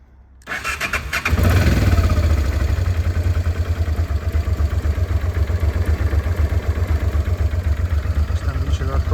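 A 2000 Honda XL 650V Transalp motorcycle cranks briefly and fires up, then settles into a loud, close, steady idle with a fast, even pulsing rhythm.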